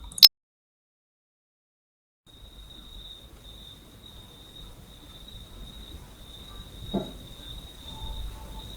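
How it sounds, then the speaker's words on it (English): A steady, thin cricket chirp trills on and on after a brief click and a moment of silence, with faint low rumble beneath. "I hear crickets."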